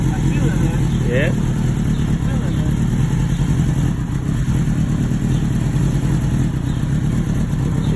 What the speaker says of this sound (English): You hear that engine starting to cut out?